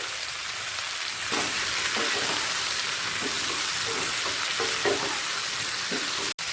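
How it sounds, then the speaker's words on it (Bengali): Soya chunks and tomato fry in a pan for chilli soya, giving a steady hiss and sizzle with a few soft stirring scrapes. "সয়াবিন আর টমেটোটাও দু মিনিট ভাজা হয়ে গেছে"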